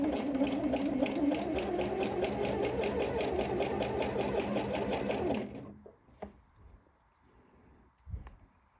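A sewing machine stitches stretched elastic onto a jersey skirt waistband, running steadily with a fast rhythmic whir for about five seconds, then stopping, followed by a few quiet clicks of handling.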